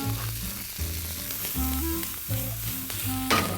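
Onion and garlic sizzle and crackle in butter in a pan, a steady frying hiss under louder background music, with a brief sharper burst near the end.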